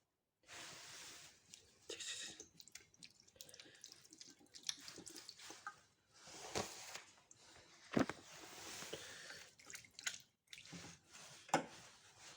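Water running from an opened tap during handwashing, a faint, steady wash of flow with scattered drips and splashes and occasional louder knocks, continuing without pause.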